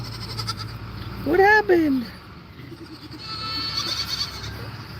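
A goat bleats in one wavering, quavering cry at close range, framed by a person's gentle talk before and after.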